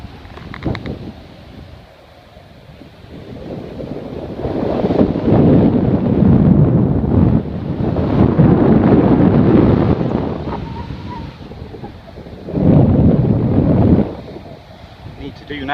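Strong gusts of wind rumble and buffet the microphone on a hillside ridge near Weston while flying, swelling in loud waves and easing between them, with no other clear sounds.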